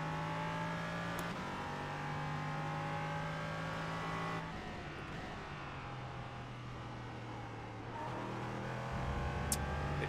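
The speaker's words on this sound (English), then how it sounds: "There's a faster car approaching. He's racing us for position." In a racing game, race cars roar continuously at high revs, one engine note dropping as it shifts, while another car draws closer from behind and a brief tire squeal cuts through near the end.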